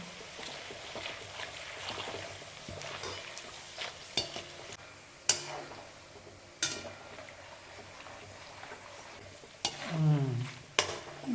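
Dry coconut pieces fry in a pan for paper poha chivda, with a soft continuous sizzle broken by scraping stirs and occasional louder clatters of the spatula against the pan.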